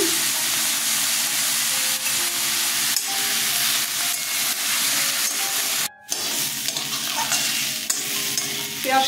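Onions frying in oil with salt, a continuous close sizzle and crackle under repeated stirring scrapes, with one brief dropout midway.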